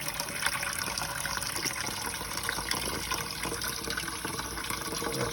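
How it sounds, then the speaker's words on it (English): Cool tap water runs steadily into a pan holding hot boiled eggs, a continuous close hiss and splash of filling that stays level throughout with no speech. "I'm going to put some cool water on it."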